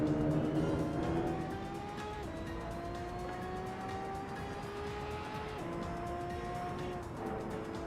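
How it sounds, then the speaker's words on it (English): Race car in Assetto Corsa during an Italian street-racing event, a steady engine drone with rising revs, a few gear changes and constant road and tyre noise, loud and close, with no talk. "Gosh, worse road noise than in my real car."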